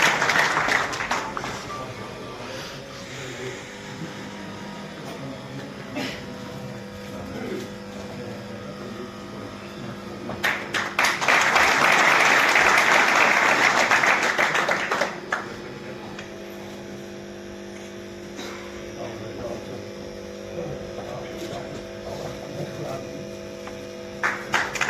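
Applause from an audience at an agricultural meeting in Kaithal about crop stubble, a loud burst of clapping lasting a few seconds amid a quiet room with a steady background hum.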